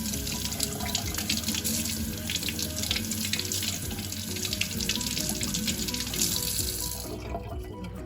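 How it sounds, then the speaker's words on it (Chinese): Tap water gushes steadily into a kitchen sink as eggplants are rinsed, a loud, even hiss and splash that lasts several seconds before cutting off near the end. "我们先开始把茄子给洗干净"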